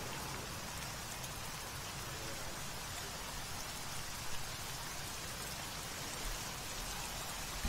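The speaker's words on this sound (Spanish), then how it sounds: "Un día que llueve en el desierto" Heavy rain pours steadily in a desert setting within the military game ArmA 3, a dense continuous hiss with a few faint louder patters near the end.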